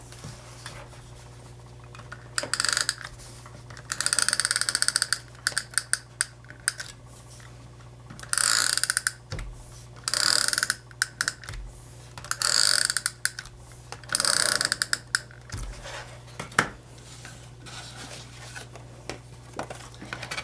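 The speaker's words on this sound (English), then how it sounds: "I'm going to add my adhesive" Adhesive being applied to the flap of a paper card, crisp ratcheting clicks in short bursts repeated several times over a low steady hum, close and fairly quiet, with no voices.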